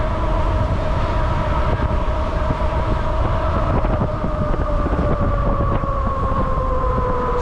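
A Magician Alpha e-bike with a Bafang motor riding at around 40 mph, giving a loud, steady roar of wind and rolling noise with a continuous whining drone running throughout.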